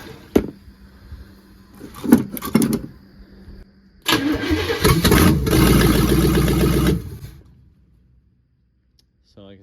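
A Cadillac Brougham hearse, fed by a factory electric fuel pump wired to a switch, cranks a few times, then its engine catches and runs loudly and steadily for several seconds before shutting off.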